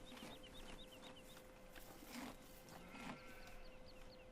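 Chickens in the video game Farming Simulator 15 cluck in quick, high chirping bursts with a couple of louder calls, over a steady background hum and farm ambience.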